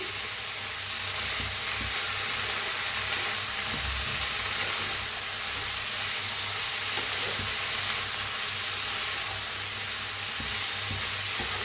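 Soaked chana dal being stirred into cabbage sabzi frying in a pan, giving a loud, steady sizzle with faint scraping stirs underneath that continue without a break.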